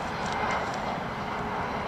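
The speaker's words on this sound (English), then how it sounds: "You see the airplane?" Fixed-wing airplane engine droning overhead, a broad steady roar that stays even and fairly loud throughout, with no voices over it.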